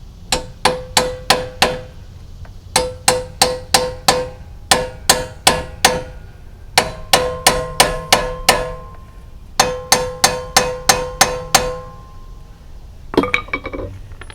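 Metal rings out as a hammer taps stabilizer end link bolts through on a 2007-2013 GMC Acadia, loud close strikes in bursts of five to seven evenly spaced blows with short pauses between groups.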